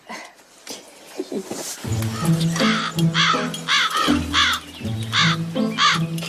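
A crow caws repeatedly and loudly at close range during a box-and-tube experiment, its harsh calls coming in a steady series after a few softer scuffling noises.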